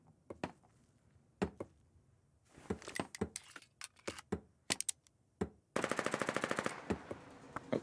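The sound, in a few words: gunfire in the video game Foxhole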